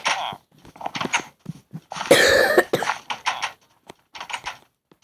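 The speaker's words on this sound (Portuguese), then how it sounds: "Outra tosse." Several short coughs come in quick clusters, close and dry, with a harsher burst in the middle, amid light clicking like keyboard typing.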